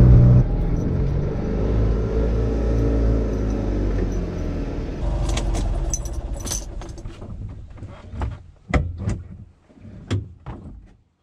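A classic 1960s Fiat 500 with its two-cylinder engine drives uphill, a steady low rumbling drone for about five seconds that then thins out into scattered clunks and rattles, close by with no talk.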